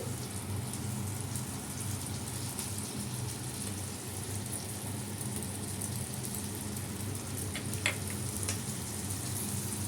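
A pan sizzles steadily with a methi greens gravy as yogurt goes in, a continuous soft frying hiss with a couple of faint clicks, close and unbroken, with no talking.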